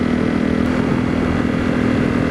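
A Honda CRF250L motorcycle fitted with a Yoshimura RS4 exhaust runs close by with a loud, steady, throaty engine note and no talk.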